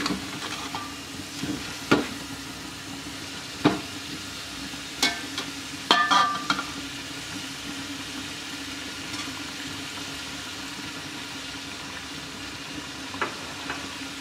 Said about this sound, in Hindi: थोड़ा मसाला भून लें,